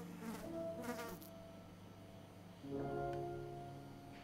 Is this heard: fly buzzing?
yes